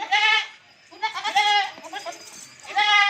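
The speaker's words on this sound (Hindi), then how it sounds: "और ये 3 नंबर पे बकरी आ रही है" Goat with young kids on a goat farm bleating loudly up close: three drawn-out, wavering calls separated by short pauses, with no voices in between.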